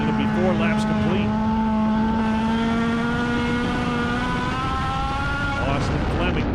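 Race cars at Hattiesburg Speedway roar past in a loud sustained pack, engine tones rising and sliding through the whole stretch, with an announcer's voice running over the top.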